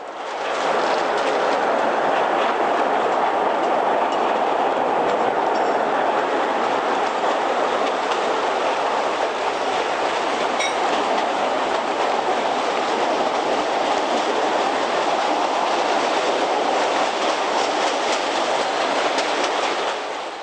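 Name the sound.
train running on rails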